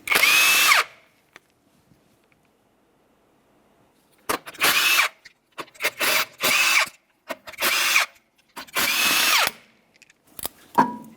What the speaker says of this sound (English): we're going to remove all 5 of these lug nuts using a 19mm so we can remove the wheel